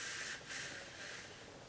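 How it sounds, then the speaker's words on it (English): A continuous-mist spray bottle of Sephora dry-clean brush cleaner gives a steady, faint hiss that dips briefly and then carries on evenly, heard alone. "it's a continuous spray."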